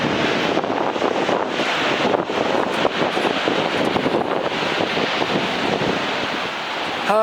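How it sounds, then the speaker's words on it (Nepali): Suligad waterfall in Nepal's Karnali region pours nearby in a broad, steady rushing roar that holds evenly throughout with no voices. "नेपालकै अर्को स्थानमा रहेको झरना सुलिगाड झरनाकै छेउबाट हिँडिरहेका छौँ"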